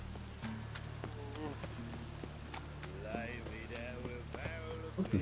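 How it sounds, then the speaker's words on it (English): Steady rain patters on surfaces in The Witcher 3: Wild Hunt, a continuous soft hiss beneath game music and character voices speaking over it. "Looks like rain."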